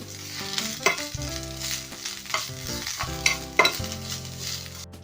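Grated coconut being roasted in a pan for fish curry, with repeated scraping and stirring strokes of a spatula over a soft sizzle, close and fairly loud, with no speech.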